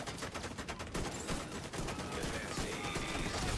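Rapid bursts of gunfire hammer at a turret in The Division 2 during a pistol-build fight, dense and continuous with no gaps.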